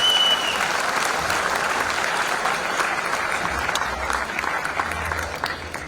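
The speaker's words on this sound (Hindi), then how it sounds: "पूर्व सांसद करण सिंह यादव साहब के लिए जोरदार तालियां।" Loud, sustained applause from a crowd greeting former MP Karan Singh Yadav at a Jaipur Ambedkar Jayanti event, steady clapping that fades slightly toward the end.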